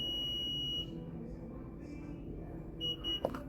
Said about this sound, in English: that double beep you just heard, that means the tailgate is now set at this height